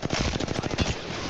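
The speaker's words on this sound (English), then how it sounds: "they're shooting at us now" Rapid automatic gunfire from the video game Apex Legends, a fast run of sharp, evenly spaced shots lasting about a second, loud and close with no talk over it.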